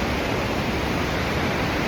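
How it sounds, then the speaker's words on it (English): A waterfall in the woods near Nelson, British Columbia, pours as a steady, dense roar that fills the whole short stretch, with no other sounds rising above it. "Waterfalls, Nelson, BC, great spot."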